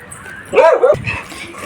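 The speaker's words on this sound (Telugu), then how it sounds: "ఈ కుక్క అరిచేస్తుంది." A single close, whiny dog bark or yelp rings out after a quiet start, followed by faint background noise.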